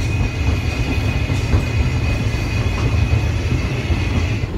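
A steam train on the Isle of Wight Steam Railway rumbles steadily along the tracks nearby, heard from the footplate, a continuous heavy roar with a faint high whine running through it.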